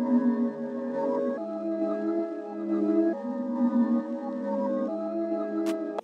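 A slow, murky reversed, half-timed melody with long sustained tones, dark and muffled with highs and lows EQed out, ending in a brief click.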